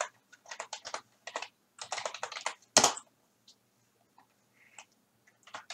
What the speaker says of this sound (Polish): Teraz wpisujemy komendę.